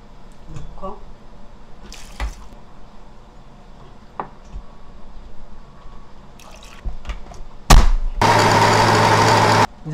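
Marinade ingredients for LA galbi, including soy sauce and vegetables, are ground in a blender. Scattered clinks and drips lead to a loud, steady whir lasting under two seconds near the end, with faint voices in the background.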